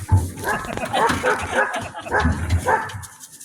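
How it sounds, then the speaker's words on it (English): An eight-month-old puppy at an Alaska dog-ride tour gives close, loud yelping barks and whimpering yips in a quick run, mixed with people talking nearby. "He's an 8-month-old puppy."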